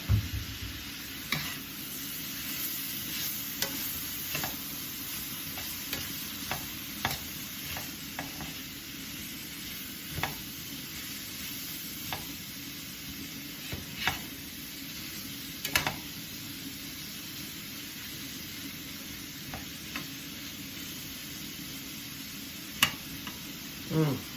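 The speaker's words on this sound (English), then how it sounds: "now I'm just going to add the sausage back in, which is awesome because now I can add a little bit of fat back into the pan." Pasture-raised pork sausage and butternut squash frying in a pan for a breakfast hash, a quiet continuous sizzle punctuated by scattered sharp scrapes and taps of stirring, no talk.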